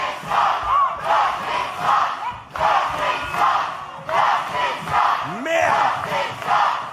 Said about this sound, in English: Listen to the crowd, guys.